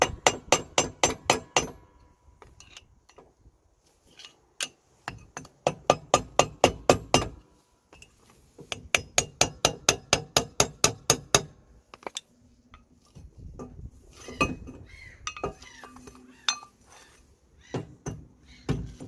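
Flathead screwdriver being driven against a wheel bearing ring on a Chevrolet Daewoo Matiz rear hub, heard as rapid bursts of sharp metallic taps in quick rhythmic runs separated by pauses, close and loud, no talking.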